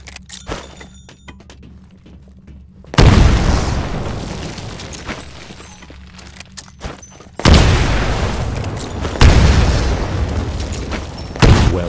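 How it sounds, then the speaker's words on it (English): Heavy booming grenade blasts in the video game Titanfall, three loud explosions spaced several seconds apart, each with a long rumbling decay over faint background clatter. "Throw a grenade into each of the windows."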